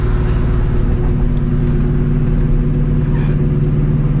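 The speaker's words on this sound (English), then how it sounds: "You literally hear the blower spinning, like inside the car with the windows all the way up." Supercharged New Edge Mustang GT with a Vortech V1 Ti-Trim blower, heard from inside the cabin with the windows up: a steady, loud engine drone with the blower's whine running continuously throughout.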